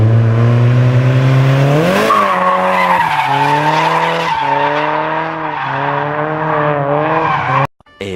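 A Mazda Miata drifting at night, its engine revving high and steady under a long, loud tire squeal that rises and wavers for several seconds before cutting off abruptly.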